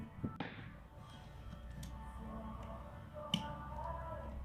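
An oil cooler part on a 7.3 Power Stroke turbo diesel seats onto a pin with a single sharp click, followed by a few faint taps in a quiet workshop.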